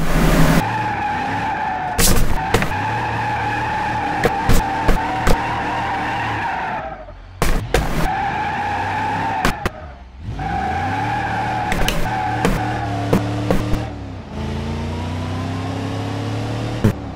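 V8 Sportlux car in BeamNG.drive revving hard, with repeated sharp tire skids and squeals cutting across the engine note, the engine dropping away briefly twice before winding back up, loud and close, no talking.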